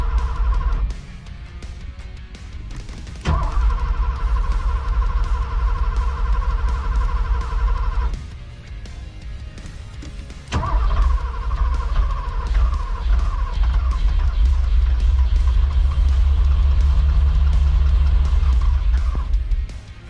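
A Porsche 928 engine is cranked and catches in loud, rough bursts. It is started two or three times with short gaps between, then runs unevenly at a fast idle, close up.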